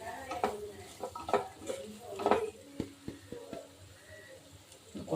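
A spoon scrapes and clinks through beef curry masala with a quarter spoon of garam masala in a pan, several distinct stirring strokes over a soft sizzle, close and moderately quiet.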